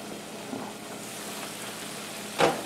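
Potatoes fry in a pan with a steady, soft sizzle that holds at an even level throughout, broken near the end by one short, louder clatter.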